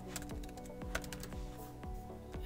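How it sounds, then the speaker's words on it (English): Close, soft tapping of keys on a computer keyboard as a short phrase is typed into a code editor, with a steady run of quick individual clicks and no voice. "I'm just gonna type in hello world"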